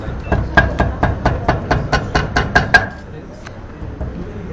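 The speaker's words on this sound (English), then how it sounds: "we use the hammer to break the fiber inside it, like this" A hammer pounds a papyrus stalk about a dozen times in a steady, even rhythm, each blow a dull thud, then the beating stops.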